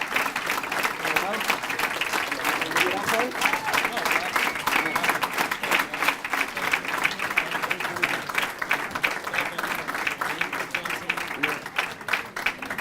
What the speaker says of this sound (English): So let's give Ed, Restoration Road, and the Greenwood Union Church a whole round of applause.